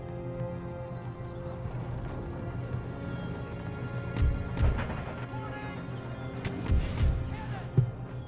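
Cavalry hooves clattering in the video game Empire: Total War, a few muffled thuds and clops among a steady battle hum and tonal game music, with someone talking over it.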